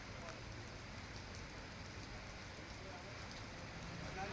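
Steady, dense hiss of heavy rain pouring down without a break, filling the whole clip at an even level, during a stormy downpour with strong winds in Junagadh district, Gujarat.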